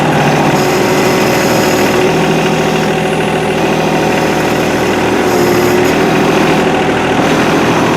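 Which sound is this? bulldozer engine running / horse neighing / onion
bulldozer engine running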